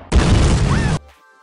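A loud, close explosion during a rebel ambush on a truck in the film BloodRayne: The Third Reich, one heavy booming blast lasting under a second before cutting to a faint tail.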